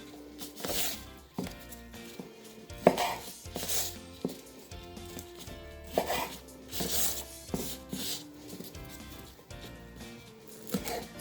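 A knife chops spring onion tops on a board for a vegetable stir fry, producing rhythmic bursts of crisp close cuts separated by short pauses, with faint rustling between them.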